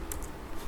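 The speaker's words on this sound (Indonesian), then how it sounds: "kita ketik di sini" Brief keyboard typing while entering text, two or three soft, close key clicks over a faint background hiss.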